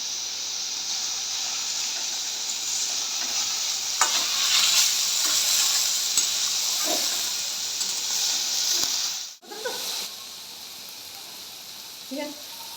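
Banana stem is stirred in hot oil, a steady close sizzle and hiss with occasional spoon scrapes, briefly dropping out near the end before resuming, with soft speech faintly underneath.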